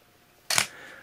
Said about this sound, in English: where it stays stopped down and the shutter's open as long as I hold the button down